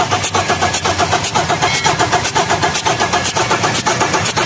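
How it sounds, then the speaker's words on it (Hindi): Mahindra Bolero diesel engine running with compression air leaking beside the second injector nozzle, giving a steady rapid ticking and puffing rhythm over a continuous mid-pitched engine drone, close and loud with no talking. "इंजेक्टर के साइड से एयर लीक हो रहा है।"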